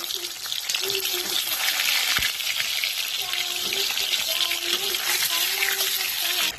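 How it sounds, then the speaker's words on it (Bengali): Eggs fry in hot oil in a home kitchen, a loud continuous bubbling sizzle close to the pan, with brief bursts of talk running under the frying. "তেল গরম হয়ে গেছে দেখতেই পাচ্ছ। এবার আমি ডিমগুলো ভেজে নেব।"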